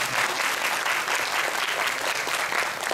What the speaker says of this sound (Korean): 좀 이따 우리 박수 한번 쳐주세요.